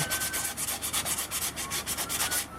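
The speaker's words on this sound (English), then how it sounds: "I think I'm go ahead and sand this mouthpiece just a smidgen." A wooden Native American flute mouthpiece is sanded by hand, giving rapid rhythmic rasping strokes, about eight per second, close and fairly quiet with no talking.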